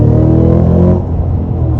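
A 2022 Cadillac CT5-V Blackwing roars hard under acceleration in second gear, a loud, steady engine note that eases slightly partway through, with no voices.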